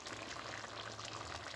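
Ghee sizzling as it hits cooking French beans and vegetables in a pan, a steady, faint crackling fry with soft bubbling throughout.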